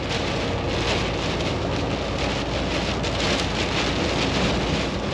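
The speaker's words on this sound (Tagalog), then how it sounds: "Lakas ng ulan, guys." Heavy rain pounds steadily during a storm while driving a truck on South Dakota 46 toward I-29, a dense continuous roar of drops with wind and possible distant thunder, close and loud throughout without any talk.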